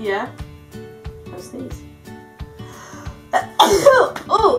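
One sharp, explosive sneeze bursts out loudly and close by during a casual makeup session, after quiet chatter and small handling noises.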